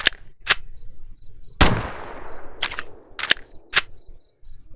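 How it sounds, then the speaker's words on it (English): Weapon reload in a horror first-person shooter game, a series of sharp mechanical clicks and clacks with one louder metallic snap that rings out and decays, heard alone against quiet. "And then we can also reload."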